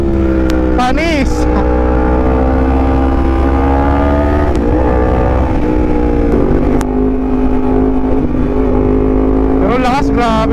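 A Yamaha MT-10SP naked motorcycle's engine roars loud and close during a test ride, climbing through first gear with rising revs and shifts, someone speaking over it at moments.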